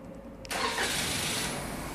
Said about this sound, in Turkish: Çalıştır mı aracı?